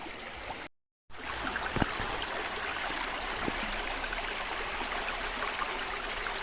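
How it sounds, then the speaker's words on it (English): A clean river stream flows steadily with a broad, continuous rush of water, constant and fairly close, with a brief dropout near the start and a couple of faint clicks over the flow. "Nice clean river."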